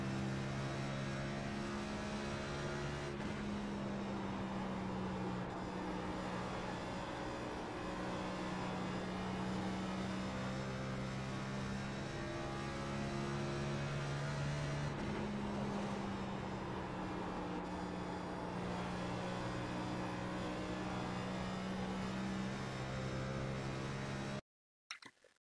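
NASCAR Cup race car engine in the iRacing video game during an in-car lap at Dover, a loud, continuous droning roar whose pitch rises and falls through the lap, with no talking before it cuts out abruptly at the end.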